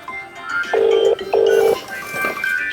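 A mobile phone rings from inside a sack, two loud sustained electronic tone bursts in a row with quieter melodic ringtone notes before and after, muffled and close.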